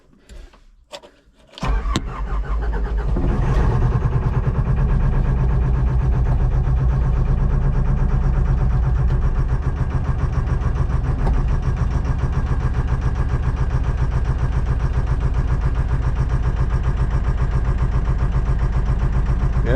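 An abandoned Caterpillar excavator diesel engine cranks over with a few clicks, catches and starts, then settles into a loud, steady, slightly rough idle that runs on without a break.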